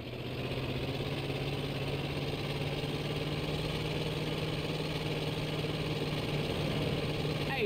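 A van engine in GTA San Andreas hums at a steady, continuous idle with a low droning tone and constant vibration, running unbroken and fairly loud throughout.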